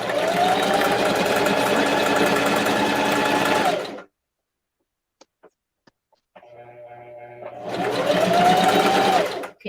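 Domestic sewing machine runs in a steady, loud continuous whir for about four seconds, stops, then after a pause with faint clicks and a low hum restarts for a short back-stitch run.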